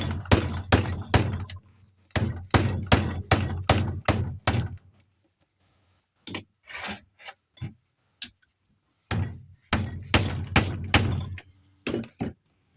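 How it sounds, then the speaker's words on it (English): Hammer strikes setting a rivet onto its burr, in two fast rhythmic bursts of sharp close taps, then a few scattered knocks and a final run of quick blows. "So next you just take any hammer,"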